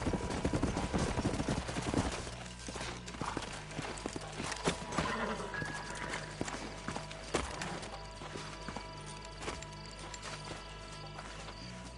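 Horse hooves clip-clop in Red Dead Redemption in a busy burst that fades into a quieter stretch, with an occasional whinny and some distant clatter.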